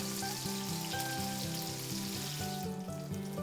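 Steady, loud sizzling of green tomato slices frying in hot grease, a continuous crackling hiss with bubbling underneath, no voices.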